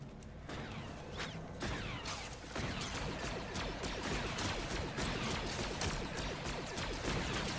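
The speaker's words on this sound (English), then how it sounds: "Nope, still hear gunfire." Gunfire in the video game Fortnite: a rapid run of sharp, repeated shots and clattering impacts, loud and close, continuing with no talk over it.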